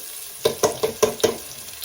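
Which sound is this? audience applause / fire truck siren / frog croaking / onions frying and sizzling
onions frying and sizzling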